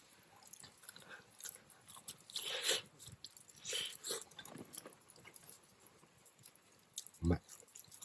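Crunchy chewing of a charcoal-grilled chicken thigh, slow-roasted over campfire embers, heard close up as irregular biting crunches with a sharper bite near the end, under quiet outdoor ambience.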